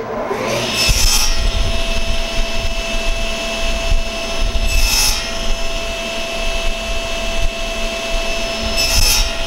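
Power saw cutting a wooden strip for a crosscut sled: a loud, continuous motor roar with brief surges of blade noise as the cut begins and ends.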